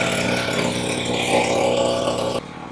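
A Mollar MLR-HPW2500E gasoline pressure washer engine runs at a high, steady throttle with a loud, buzzing drone close by, then abruptly drops in level near the end.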